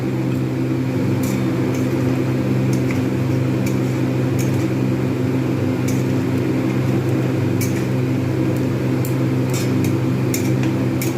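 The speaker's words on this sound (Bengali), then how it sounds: "এবারে আমি ওভেনটাকে অন করে দেবো।" An oven switched on and running gives a loud, steady mechanical hum with a constant low drone, broken by faint brief ticks and clicks.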